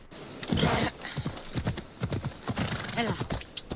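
Hooves clip-clop in a steady, close rhythm as a horse walks, broken by a short neigh, in the Assassin's Creed Odyssey video game, with voices talking over parts of it.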